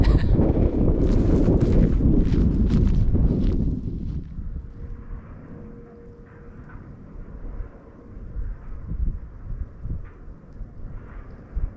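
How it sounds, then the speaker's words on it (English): Strong wind buffets the microphone on the shore at the mouth of the River Usk during a sea fishing session, loud and rumbling for the first four seconds, then easing to a softer, gusting roar. "I'm sorry about this wind. I literally am getting blown away."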